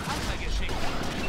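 Blaster shooting in Star Wars Battlefront 2, a dense continuous barrage of rapid shots packed tightly together, with faint talk underneath.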